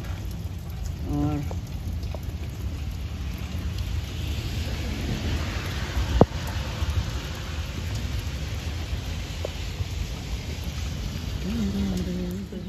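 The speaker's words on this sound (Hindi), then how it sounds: "ये देखते हैं माशाल्लाह से बारिश बड़े ज़ोरों पर आई हुई है" Heavy rain pours steadily outdoors in a dense, even hiss, with a low rumbling undertone and one sharp crack partway through; someone speaks a word briefly and faint tones sound near the end.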